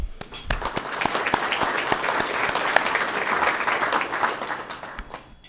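An audience at a Seattle City Light staff gathering breaks into sustained applause, a full, even roll of many hands clapping together that fades out near the end.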